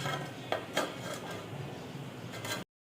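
A few metallic clinks and a clatter of a lid settling onto a pot of fish curry, followed by abrupt silence.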